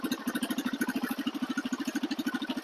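A Lifan KPX 250cc fuel-injected motorcycle engine idles close by, a quiet exhaust putting out a quick, even, regular pulsing beat with no talk over it.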